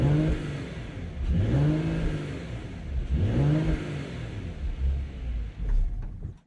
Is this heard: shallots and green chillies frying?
no